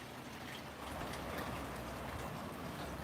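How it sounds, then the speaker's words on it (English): Heavy rain falls outside in a dense, continuous hiss of droplets, steady and moderately loud without any talk. "it's raining pretty bad"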